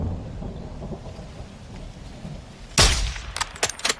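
Sniper rifle shots in Call of Duty: Modern Warfare II, with a sharp loud crack at the end followed by several shorter bursts close together over a low rumbling game ambience.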